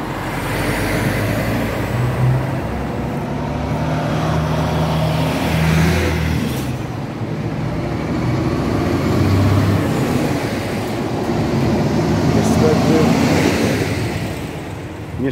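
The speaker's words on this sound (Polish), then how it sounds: "ruch jest duży, zwłaszcza ruch samochodów ciężarowych" Heavy traffic passes on a busy town street, with loud trucks and cars rumbling by in continuous overlapping waves and engines surging near and far under a faint background murmur.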